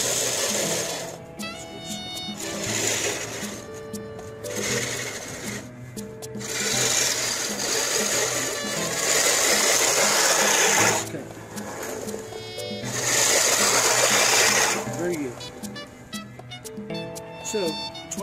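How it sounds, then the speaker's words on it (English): A 20-inch manual reel push lawn mower cuts grass, its spinning blades giving a whirring, rasping clatter that swells and fades with each pass, and someone speaks briefly alongside it. "So, 20-inch reel push mower."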